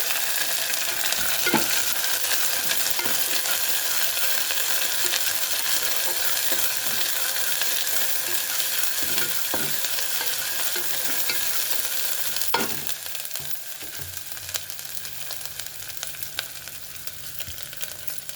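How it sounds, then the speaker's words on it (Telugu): Ginger garlic paste frying in a pan after onions have browned, a steady loud sizzle throughout with occasional scraping stirs and knocks of a spoon, no voices. "ఇప్పుడు అల్లం వెల్లుల్లి పేస్ట్ వేసాను. పచ్చివాసన పోయే వరకు వేగించుకోవాలి."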